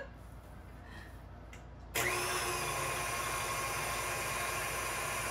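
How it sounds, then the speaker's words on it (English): A KitchenAid stand mixer fitted with a grinder and sausage stuffer attachment kicks on abruptly after a quiet stretch, then runs with a steady, loud motor whine and buzz. "And we will link the KitchenAid attachment. So it's a grinder and also a stuffer."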